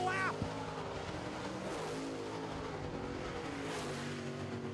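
Late model race cars run a feature race on a track, their engines making a steady, distant roar. An announcer's voice carries over the noise.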